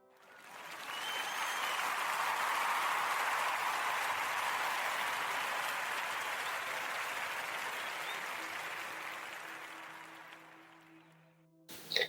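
A studio audience at a radio podcast show gives a big round of applause: a dense, steady wash of many hands clapping that swells quickly, holds for about ten seconds, then fades out.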